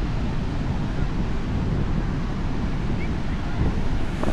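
Strong sea waves break on the beach at Lido di Jesolo near Venice, giving a constant broad roar of surf mixed with heavy wind buffeting on the microphone.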